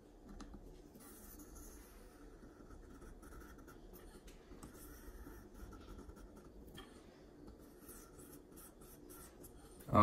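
A knife blade is drawn lightly heel to tip across a sharpening stone on a KME sharpener, giving faint, dry, repeated scratchy strokes up close in a quiet room.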